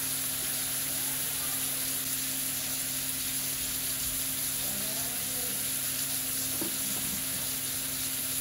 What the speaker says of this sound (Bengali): দিয়ে মাংসটাকে ভালো করে নেড়ে চেড়ে কষে নেব।